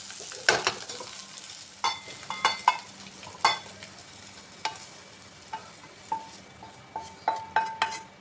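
Egg masala frying in a pan on low heat, a soft continuous sizzle punctuated by repeated sharp clinks and scrapes of a spoon stirring against the metal, close and without talk.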